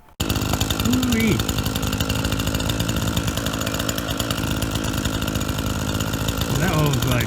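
A trail-clearing chainsaw idles steadily and loudly up close while warming up, a continuous buzzing drone with two brief throttle blips, one near the start and another near the end, and no pauses.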